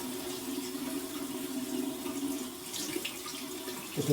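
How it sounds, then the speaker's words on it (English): Cold water runs steadily from a bathroom tap into a sink, a continuous gentle splashing stream heard close up with no talking over it. "go ahead and run some cold water and get this"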